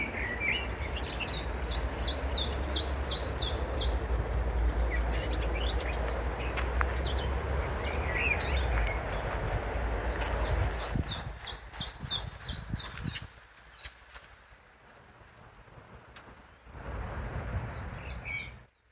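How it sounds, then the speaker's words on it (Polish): Birds sing in a garden under a grey sky with light drizzle: repeated bright chirping phrases in bursts, fairly close, over a soft background hush that dips quieter toward the end. "ptaki śpiewają wspaniale"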